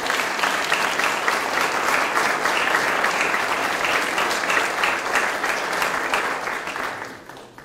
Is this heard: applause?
yes